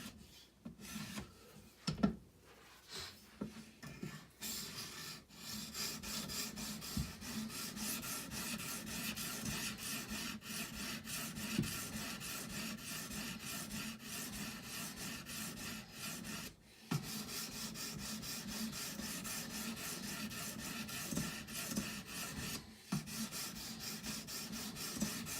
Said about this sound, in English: You can hear the sound of the stones getting softer and softer as I progress